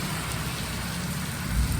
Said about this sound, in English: This was the most intense rainstorm in a short period of time.